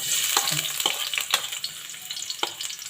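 Garlic sizzles and fries in a little oil in a pan for chicken adobo with lemon juice, a steady close hiss with a few sharp crackles and spatula scrapes, no voices.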